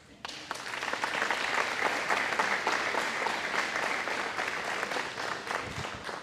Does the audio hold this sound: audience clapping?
yes